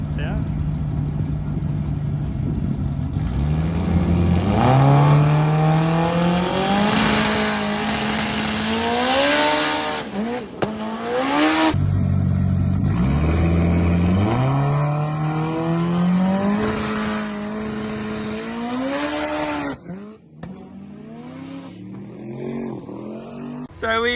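A 1000hp Honda K24-powered drag car launches down the strip, its engine screaming up through repeated gear changes in loud rising sweeps, with a brief lift and a sharp crack partway through before the pass winds down.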